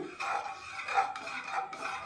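A spoon scrapes around inside a pot of bottle gourd sambar in a few slow strokes, soft and close, with light metallic rubbing between them.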